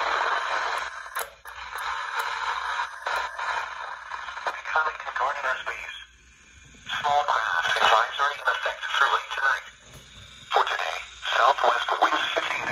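A vintage Cobra CB radio picks up a weather broadcast. The voice comes through broken up and staticky, with crackle and scraping noise. Reception drops out briefly partway through, then resumes in choppy bursts.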